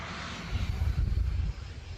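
A military airplane takes off from a runway, heard as a brief, distant low roar that swells slightly midway. No voices are heard.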